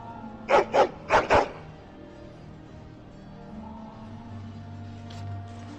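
A dog in the Dragon Age: Origins video game barks four times in quick pairs, loud and close, followed by quieter game ambience with distant rumble.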